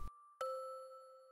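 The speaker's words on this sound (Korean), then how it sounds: "세상에, 종소리다!" A Christmas bell rings in clear, sustained metallic tones, two strikes with a long ringing decay between them, alone and close.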